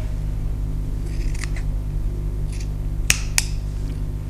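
Scissors snip excess fabric from a sewn garment, with a few short crisp cuts heard up close over a steady low hum.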